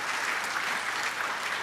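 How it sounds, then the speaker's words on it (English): An audience in the Eastern Cape provincial legislature, during the State of the Province address, gives a dense, continuous burst of applause. The clapping is even and fairly loud, with no talk over it. "Can you give them a round of applause?"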